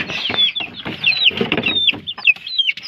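Chickens cluck and squawk continuously at close range, with overlapping calls and scratchy rustling.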